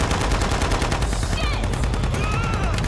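Minigun fire in the video game Shadow of the Tomb Raider: a loud, unbroken rapid-fire burst that hammers on for the full stretch without a pause.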